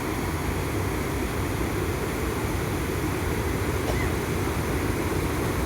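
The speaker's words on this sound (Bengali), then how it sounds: "জল পড়ার ভীষণ শব্দ আপনারা শুনতে পাচ্ছেন" Water pours loudly and continuously at a river bridge, a dense, unbroken roar that stays close and even throughout with no voices.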